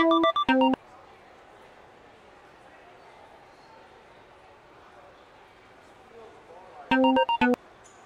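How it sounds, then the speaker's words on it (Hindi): A phone ringtone plays an unanswered call in two short melodic bursts, one at the start and one near the end, with near-silence between them. "मोहिनी फोन क्यों नहीं उठा रही यार?"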